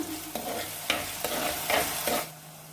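Ginger, garlic, shallots and green chilies sauté in a hot pan for a Kottayam-style fish curry. A close, steady sizzle runs beneath repeated rhythmic stirring strokes, and the pan quiets at the very end.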